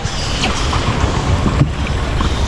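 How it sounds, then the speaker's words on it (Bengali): Wake from a passing trawler slaps against a small boat at a floating guava market near Barishal, a loud continuous churn of water with wind buffeting the microphone. "যখন পাশ দিয়ে একটা ট্রলার যায় তখন কিন্তু সেই ঢেউ থাকে এবং দেখতেই পাচ্ছেন কি ঢেউ"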